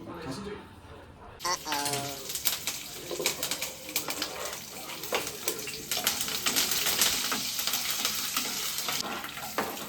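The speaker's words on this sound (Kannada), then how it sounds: "ಸೊ ಎಣ್ಣೆ ಕಾದಿದೆ ಅಂತ ಚಪಾತಿ ಬದಲು ಪೂರಿನ ಮಾಡ್ತಿದ್ದಾರೆ" Puris fry in hot oil in a home kitchen, a continuous bubbling sizzle that swells louder in the second half, with people talking over it.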